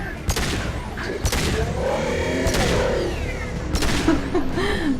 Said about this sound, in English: I just took you out with a pistol